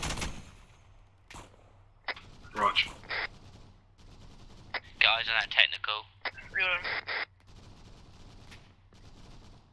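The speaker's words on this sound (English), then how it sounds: "It's something LMG to our north." Light machine gun fire in Arma 3 rattles in short bursts with distant single shots, heard mostly beneath radio-style voice chat between players.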